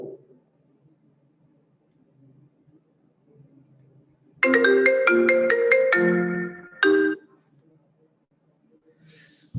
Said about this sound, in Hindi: फोन बहुत बजते हैं ना, रिंग रिंग।